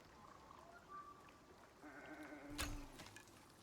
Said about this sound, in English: I just heard what sounded like a sheep behind me.